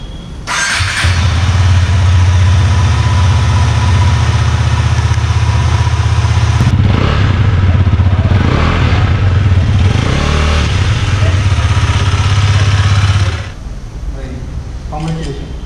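A Husqvarna Svartpilen 250 single-cylinder motorcycle cranks and fires up, then settles into a loud, close idle for about twelve seconds before the engine note drops away, with people talking nearby.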